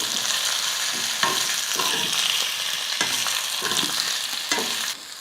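Potato and raw banana pieces fry in oil in a pan, a steady loud sizzle with intermittent scraping stirs throughout, no voices.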